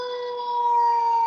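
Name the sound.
siren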